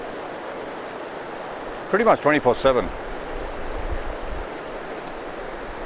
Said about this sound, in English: The sound of the river flowing by